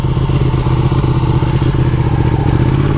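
A Ducati Panigale motorcycle rides on a road in Florida, its engine a loud, steady, close droning roar that holds unbroken throughout with no speech.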